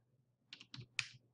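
Typing on a computer keyboard while entering exam-score numbers into a spreadsheet: a few quiet, close keystroke clicks in a short burst.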